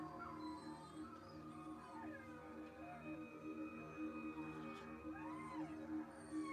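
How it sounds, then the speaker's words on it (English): Wolves howling in the distance, several long wavering cries rising and falling in pitch over a low ambient drone, faint and far off. "The sound of wolves howling."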